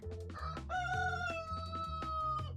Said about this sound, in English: This is why you need the rooster sound effect.